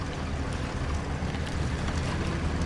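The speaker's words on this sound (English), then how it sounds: "The engine does change noise when you get in low on fuel" A heavy truck engine in the MudRunner off-road game drones steadily while the truck struggles for traction in the Sonoran Desert and runs low on fuel, with a constant broad rumble and no pauses.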